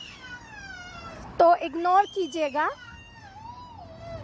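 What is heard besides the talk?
young child crying in the background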